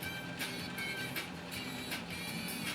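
A 1953 Singer 15-91 sewing machine built in Indianapolis, Indiana runs steadily: an even mechanical whir with a quick rhythmic clatter, moderately quiet and close, with no talking.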